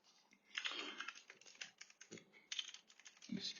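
Quick light typing on a computer keyboard, close and faint, with irregular clusters of key clicks and a heavier keystroke near the end.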